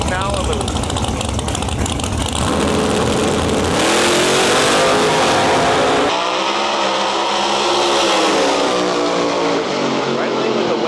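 Nitrous-fed Camaro and Malibu drag cars race side by side at a Canadian outlaw drag event, their engines a loud, sustained roar that swells and shifts pitch as they run, with crowd and announcer noise mixed in.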